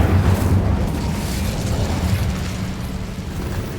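Incendio fire spell cast in Hogwarts Legacy: a dense, roaring burst of flame with a low rumbling rush that stays loud and slowly fades over a few seconds.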